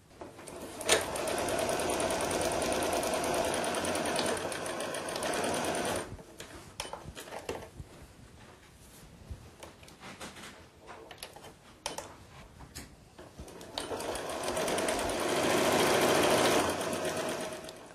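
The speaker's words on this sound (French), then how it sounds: "je vais coudre à la machine deux coutures latérales à 1 cm du bord" A sewing machine stitches two side seams 1 cm from the fabric edge on a storage bag: steady, close mechanical whirring in long runs, with a quieter stretch of clicks and handling sounds in the middle before stitching resumes.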